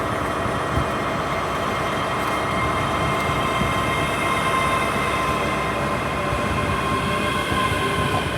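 A ScotRail service to Edinburgh Waverley pulls out of Stirling station with a steady loud rumble of wheels on rails and faint squeals, heard close from the platform with no talking.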